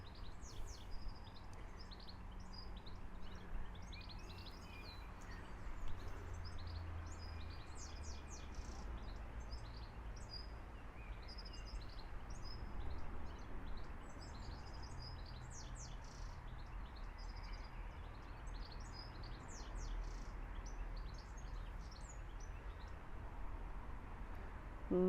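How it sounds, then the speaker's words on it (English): Birds sing and chirp in Claremont Park in Blackpool, with many small high calls scattered through the whole stretch over a steady low background rumble, fairly distant and soft. "Lovely, lovely to hear the birds singing like that"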